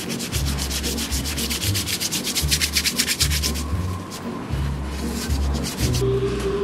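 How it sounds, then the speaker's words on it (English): Sandpaper rubs over the mating surface of a Volvo Penta D2-55 sail drive during a diaphragm change, with a series of close, rhythmic back-and-forth scraping strokes and brief pauses between passes. "I'm just going to do the same again with the sandpaper and the razor on the surface here again"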